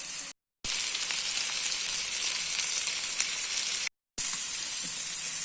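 Vanjaram fish fillets fry in hot oil in a pan, giving a steady, loud sizzle with fine crackle that runs unbroken through the clip apart from two brief silent gaps.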